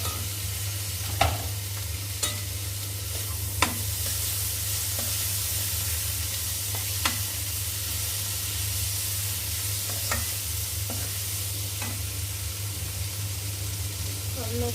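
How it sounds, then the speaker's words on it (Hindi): Chopped green chilies and tomatoes frying in a pan, a steady loud sizzle lasting throughout with a low hum underneath and occasional faint clicks of stirring. "अब मैं इसमें डाल दूँगी जो मैंने हरी मिर्च और टमाटर काटे हैं।"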